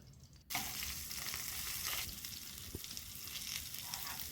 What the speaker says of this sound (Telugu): ఇలా స్టఫ్ చేసుకున్న వంకాయల్ని వేసి స్టవ్ను సిమ్లోనే పెట్టండి